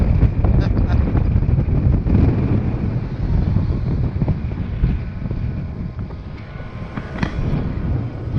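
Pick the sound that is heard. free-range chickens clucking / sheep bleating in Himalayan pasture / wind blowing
wind blowing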